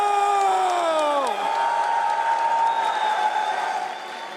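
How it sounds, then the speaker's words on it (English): Fans at The International 2025 Dota 2 event, Xtreme Gaming vs BB Team, roar in a loud, sustained wall of cheering and whooping, with one shrill rising cry that swoops downward before the crowd noise carries on. "hearing all those cheers out there from their fans"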